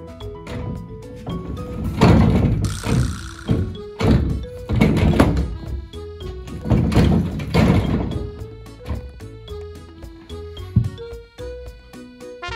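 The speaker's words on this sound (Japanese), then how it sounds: "輪ゴムをスライドドアのレールの上に何個か置いてドアを開閉するだけ" A sliding door rolled open and shut several times over rubber bands set on its rail, making repeated heavy thunks and rumbling slides at close range, with music playing throughout.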